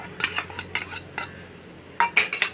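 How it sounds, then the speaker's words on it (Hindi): A spoon whisks yogurt in a bowl for suji dhokla batter, giving quick clinking scrapes in short bursts, a brief pause, then a louder run of clatters near the end. "200 ग्राम दही लेंगे और दही को थोड़ा फेंट लीजिएगा"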